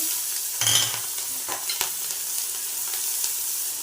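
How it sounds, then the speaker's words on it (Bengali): Onion and whole spices, including cumin seeds and whole garam masala, fry in hot oil, a steady close sizzle with a louder burst and stirring scrapes early on, then continuing crackle without speech. "গোটা গরম মশলা আর জিরে ফোড়ন দিচ্ছি, পেঁয়াজটা দিয়ে দিচ্ছি"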